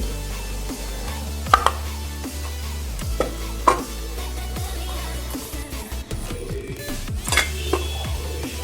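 A knife chopping a rolled omelette into pieces on a board at a Mumbai street-food stall, giving a few sharp, close knocks among steady background clatter and hum.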